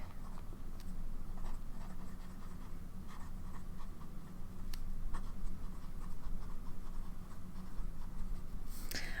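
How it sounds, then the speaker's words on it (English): A fountain pen with a Sailor medium nib scratches steadily across paper, a continuous close, soft writing texture with small strokes and taps, with no talking. "very much looking forward to this pen writing experience"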